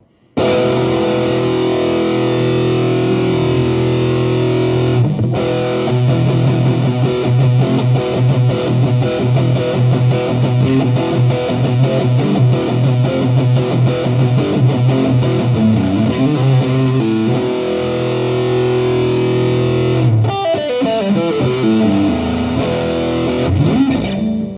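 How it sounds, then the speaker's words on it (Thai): Electric guitar with heavy distortion played through a Marshall Kilburn II Bluetooth speaker, sustained chords and riffs, loud and continuous, with a brief pause near the end before resuming. "เดี๋ยวเราลองเสียงแตกกันมันดีกว่า"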